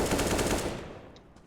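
A rapid burst of automatic rifle fire in Counter-Strike: Global Offensive rattles loudly in quick succession, then cuts off and fades into quieter game ambience.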